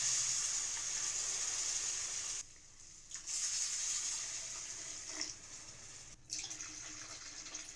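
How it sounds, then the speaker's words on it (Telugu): Three cups of water pour steadily into semolina in a cooking pot, a continuous splashing stream broken by two brief pauses, with no talk over it. "రవ్వ తీసుకున్నామో అదే కప్పుతో 3 కప్పుల నీళ్లు వేసుకోవాలి"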